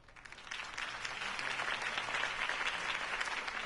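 A crowd applauds in a Batman video game after a Harvey Dent campaign speech, a soft, dense patter of many clapping hands that swells slightly and holds steady for a few seconds.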